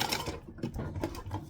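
A sewing machine stitching forward and then back stitching, a short run of quick mechanical chatter, close and fairly quiet.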